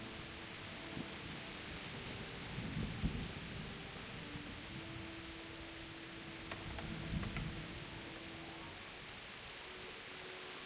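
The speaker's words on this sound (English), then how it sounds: "staring up at the rain." Steady rain falls in the medieval video game Kingdom Come: Deliverance, a soft even hiss with faint low rumbles swelling briefly twice, no voices over it.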